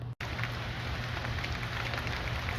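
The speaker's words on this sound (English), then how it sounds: "I love all the rain and all the storms." Steady heavy rain falling during a storm, a dense close hiss that fills the whole stretch after a brief cut near the start.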